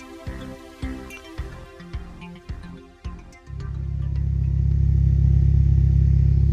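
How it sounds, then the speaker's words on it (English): A Ford Fiesta Mk6 ST150 fitted with rally flaps and new alloy wheels sits with rhythmic clunks and revs before its engine settles into a loud, steady, rising drone as it pulls away close by. "It's time to send the Fiesta out for a little drive."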